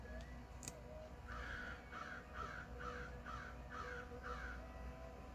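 Crows caw outdoors in a run of six or so evenly spaced harsh calls, moderately distant, over a low steady background hum.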